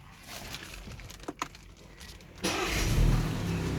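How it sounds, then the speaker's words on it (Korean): A 2025 BMW 420i Gran Coupe M Sport is started from inside: a few soft clicks, then the engine fires with a sudden swell and settles into a low, steady idle close by. "보시면 시동을 켰을 때 이런 느낌입니다"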